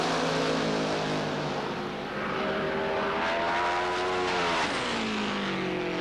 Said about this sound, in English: Peterson and Beck in round number 1, Top Fuel Eliminator.